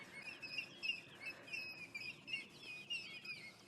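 Two birds trade repeated high, sharp calls back and forth, close and clear over a quiet outdoor background, with fainter calls farther off.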